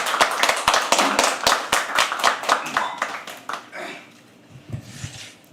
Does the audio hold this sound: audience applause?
yes